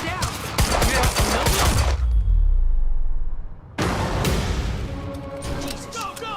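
Heavy automatic gunfire in the action game Quantum Break, loud rapid bursts that stop for a deep rumbling boom and then resume, with shouting voices over the shooting.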